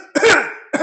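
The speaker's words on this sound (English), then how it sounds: "that's the crescendo cough, characteristic of causticum" A deliberately demonstrated crescendo cough, as described for causticum: one loud, close, harsh cough that rises and rasps, then the sharp start of another.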